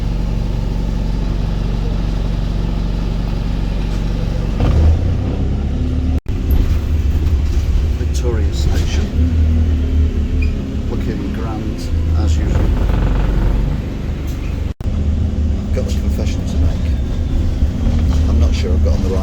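Old single-decker bus in Greater Manchester rumbling and vibrating from the inside, a steady low engine drone throughout with rattles, someone talking over it at times.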